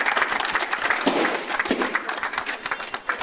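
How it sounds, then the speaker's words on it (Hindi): Audience applause at a mobile phone shop's inauguration after a ribbon cutting, a dense, continuous burst of many hands clapping close by, with no talk over it. "आप ताली बजाइएगा आप लोग।"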